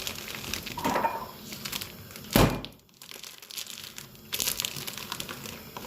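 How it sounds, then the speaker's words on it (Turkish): A plastic pasta package crinkles and crackles in a few separate bursts as it is torn open, with the loudest crunch midway and quieter rustling around it, close by and with no talking. "makarnayı açacağım"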